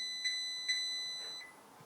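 Two short electronic beeps from pressing the timer button on a Vitality appliance, followed by a faint softer tone, close and clear against a steady background hum.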